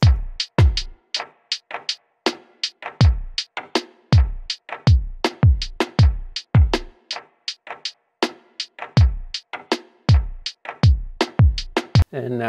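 Lo-fi drum rhythm section with punchy kicks and snappy hits in a steady, loose groove, loud and alone without voices.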